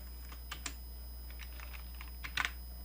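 Keys clatter on a computer keyboard during spreadsheet entry, a few scattered taps with one quick burst near the end, faint and steady over a low electrical hum.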